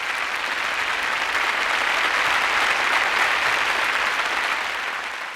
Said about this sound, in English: I love that cheesy applause soundtrack, but it really works.